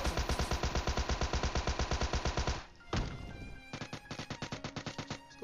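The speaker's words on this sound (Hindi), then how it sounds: "पीछे से आवाज़ आती है जैसे किसी ने शॉट गन मारी है" Rapid automatic gunfire in PUBG Mobile rattles loud and close in a steady burst, breaks off into a single heavy blast like a shotgun fired from behind, then another fast run of shots follows.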